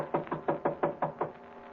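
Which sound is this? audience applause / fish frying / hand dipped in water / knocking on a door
knocking on a door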